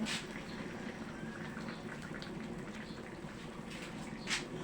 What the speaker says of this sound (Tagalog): Hinaan natin yung kalan, umaapaw.